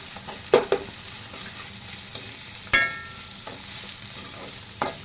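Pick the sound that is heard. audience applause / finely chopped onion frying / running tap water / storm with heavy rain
finely chopped onion frying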